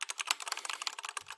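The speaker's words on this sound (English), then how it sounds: "Jace hitting the keyboard." Rapid, steady clatter of fingers typing on a computer keyboard, quiet and close, the keystrokes tumbling one after another with no voices.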